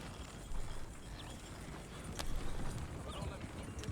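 Horse hooves clip-clop at a steady trot while pulling a supply wagon in the Western video game Red Dead Online, a low rumble of wheels and tack beneath, with faint voices now and then.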